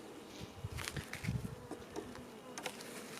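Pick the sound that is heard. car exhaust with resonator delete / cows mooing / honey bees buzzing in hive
honey bees buzzing in hive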